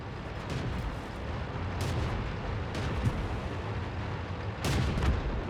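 Tank cannon fire and distant explosions in a World of Tanks battle, rumbling steadily with several booming blasts, the loudest near the end, and no talk.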